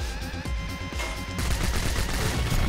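Droid cannon firing in Bionic Commando Rearmed, a loud, dense barrage of rapid shots that thickens partway through and continues without pause, with no voices.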